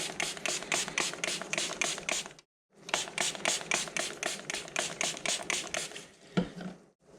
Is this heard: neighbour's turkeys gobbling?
no